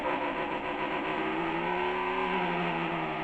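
A human voice imitates a V8 engine revving, giving a sustained buzzing, rumbling tone that rises and falls slightly in pitch, steady and close throughout.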